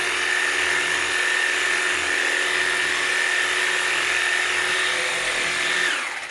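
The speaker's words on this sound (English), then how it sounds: "The marvellous Makita 18 volt massage machine, the only one in the world." A homemade massage machine built on a Makita 18V cordless tool runs continuously with a high, steady motorized whine and buzzing vibration, close and loud, then winds down at the very end.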